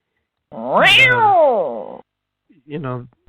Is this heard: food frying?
no